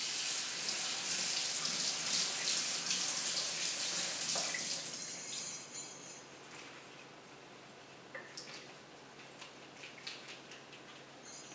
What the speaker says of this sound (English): so let's just wash the strawberries.